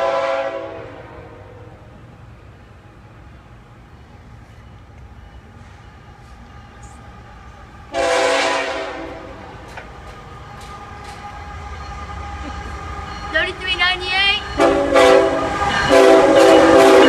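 A CSX freight train, Q354, passes southbound near Fredericksburg, sounding loud, sustained horn blasts over a low rumble of the rolling train that grows stronger toward the end.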